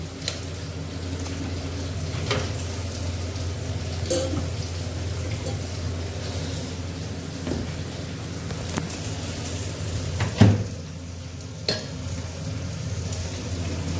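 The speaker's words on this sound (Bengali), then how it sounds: "আর এদিকে মাছ ভাজা হচ্ছে।" Fish frying in a pan during breakfast preparation, a moderate steady sizzle under occasional clinks of utensils and dishes, with no speech.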